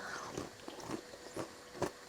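Crisp bites into chiroti, a delicate layered Indian sweet pastry made with butter and rice flour and soaked in sugar syrup, giving several soft crunchy bites at a steady pace, close and fairly quiet.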